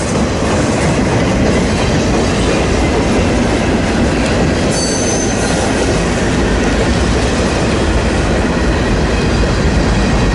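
Freight train with covered hopper cars rolling past close by, a loud continuous rumble with rhythmic clickety-clack of wheels on rail joints and a brief high squeal partway through.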